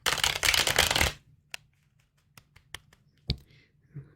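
Tarot cards are riffled rapidly for about a second in a dense close burst, followed by scattered single taps and clicks as the deck is squared and handled.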